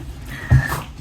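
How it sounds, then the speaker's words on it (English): An excited puppy whimpers and snorts indoors in a home, a brief close whine with a soft nasal huff, fairly loud against quiet room tone. "The puppy is excited that somebody is awake."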